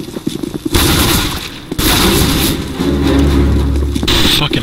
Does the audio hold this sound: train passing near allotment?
no